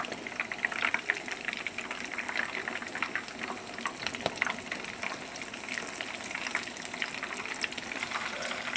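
Chapli kababs, Peshawari restaurant-style, frying in a pan: a steady, close sizzle and crackle of hot oil runs throughout, with no talking.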